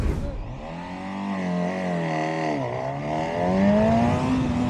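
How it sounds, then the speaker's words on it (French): Up close, a Honda Hornet 1000 motorcycle engine is revved with the throttle, its pitch climbing, dipping briefly, then sweeping up again in a loud, smooth wail, with a little talk underneath. "Enfin, on va mettre un petit peu de gaz, quoi, tu vois."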